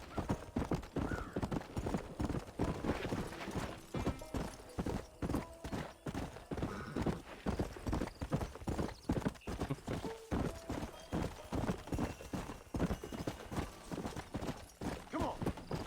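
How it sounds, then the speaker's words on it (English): Horse hooves gallop in a steady, rapid clip-clop rhythm throughout, loud and close, with occasional whinnies and faint background music in the Red Dead Redemption video game. "Cavalo de desfiladeiro."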